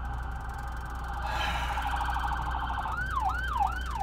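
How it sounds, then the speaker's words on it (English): An ambulance siren sweeps up and down in a wailing cycle, growing louder as it passes close by on a country road amid steady traffic rumble. "Now I think we got an ambulance coming through."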